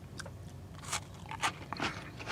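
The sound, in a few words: biting crunchy chocolate chip cookie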